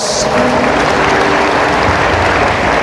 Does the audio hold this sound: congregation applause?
yes